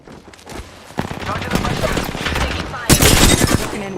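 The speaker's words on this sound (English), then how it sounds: "Taking fire! I'm under fire!" Video game gunfire in a first-person shooter: rapid bursts of shots and automatic fire that crackle repeatedly and grow louder toward the end, with a sharp heavy volley near the three-second mark and game voice lines mixed in.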